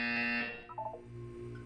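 Test chamber buzzer in the video game Portal 2, a harsh electronic tone blaring for under half a second, then fading into a low resonant hum with a few brief warbling tones.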